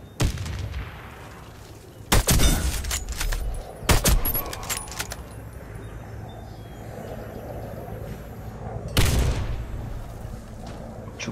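Grenade blast and gunfire in the shooter Warface: three loud, sharp bursts with ringing tails cut through a low rumbling background, the last one heavy and explosion-like.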